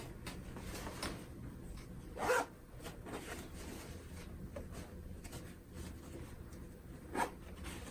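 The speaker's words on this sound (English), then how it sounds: "It still zips nicely." A zipper on a newly sewn skirt is pulled, giving two short, close, scratchy zips several seconds apart against a quiet room with faint handling rustles.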